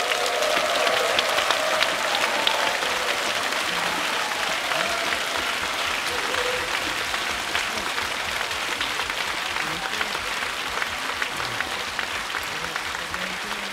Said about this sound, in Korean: K-피라모닉 오케스트라와 지수한 지휘자에게 큰 박수 부탁드리겠습니다